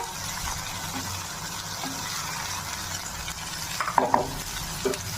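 Steady sizzling of potato and eggplant frying in oil in a pan, with a few sharper scraping clinks of a spatula stirring near the end; no voices.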